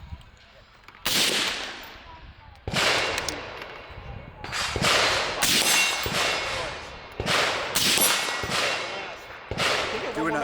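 Rifle shots through a Rugged Razor 556 suppressor on a modern sporting rifle, about eight sharp, loud reports fired at an uneven pace, each with a short rattling decay, close to the listener.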